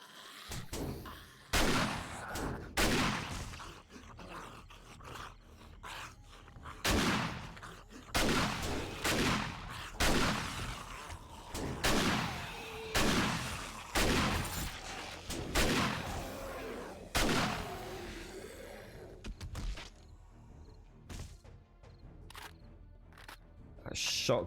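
Shotgun blasts in the survival game 7 Days to Die ring out as a string of sharp, loud bursts, each with a short decaying tail, fired at irregular intervals over about twenty seconds.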